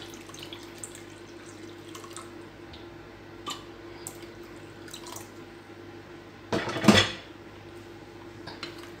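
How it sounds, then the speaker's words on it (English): Faint clinks and ticks in a quiet room, then a brief splashing gush of water poured into a pan near the end. "Adding water."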